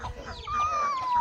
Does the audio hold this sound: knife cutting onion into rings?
no